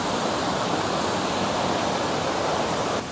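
Clear fresh spring water rushes from its source near a fortress in Bosnia and Herzegovina, a dense, steady, close roar that never lets up across the short moment, with no voices.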